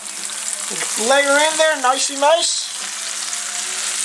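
Calamari sizzles steadily in hot oil with a constant crackling hiss, while someone speaks briefly over it.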